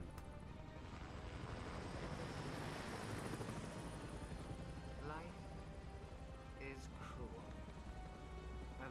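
A helicopter in the Gears of War 2 video game drones with a continuous rotor roar. Game effects and voices cut in later, and players talk over the noise.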